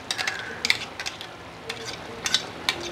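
Ground chili paste with onion, tomato and garlic stirred into a pan on low heat for vathal kuzhambu, soft sizzling with scraping spoon strokes, faint and close.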